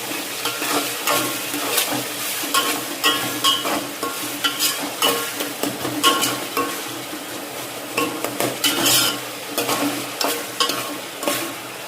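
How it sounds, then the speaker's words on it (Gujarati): Onion, tomato and coriander frying in a pan for chana pulav, a steady sizzle with repeated scraping stirs and light clinks of a spoon against the pan, close and alone. "ડુંગળી ટામેટું ધાણા શેકી રહી."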